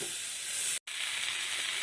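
Gooseberry pickle simmers in spices in a pan on the stove, giving a steady close sizzling hiss broken by a brief moment of silence.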